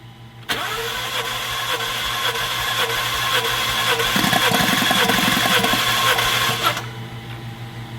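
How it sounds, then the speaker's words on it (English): A Ford F150 with the 2.7 litre engine cranks at wide open throttle with a loud, steady whirring drone lasting several seconds. Odd rhythmic knocking rises partway through, and then the cranking cuts off abruptly. "I'm going to let Tyler give me 5 cranks, wide open throttle"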